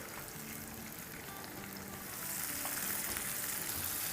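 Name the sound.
garlic and green chili paste sautéing in oil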